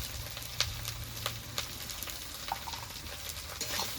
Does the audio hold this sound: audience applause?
no